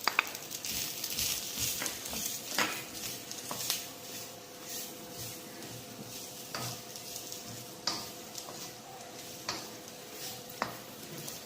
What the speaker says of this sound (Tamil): வெங்காயம் இஞ்சியும் போடுங்க இது நன்றாக வதங்க வேண்டும்